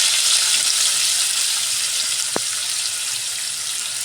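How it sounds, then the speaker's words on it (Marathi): Chopped onions sautéing with cumin and curry leaves in a pan, a loud, even hiss of sizzling oil with one short clink partway through. "परतवून घेणार आहे."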